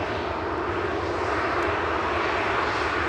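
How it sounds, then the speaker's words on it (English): An Air Canada airliner rolling out at Manchester Airport, its jet engines producing a continuous loud rumbling roar that stays even across the moment, with no voices. "Quick turnaround for Air Canada, that's coming out now."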